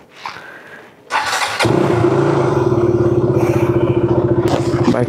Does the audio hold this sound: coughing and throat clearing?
no